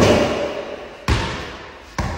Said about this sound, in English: Watch her shoot the ball.